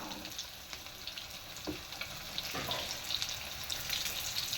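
Chicken koftas fry lightly in oil with a soft, continuous hiss and scattered small pops and clicks, close but quiet, with no talking.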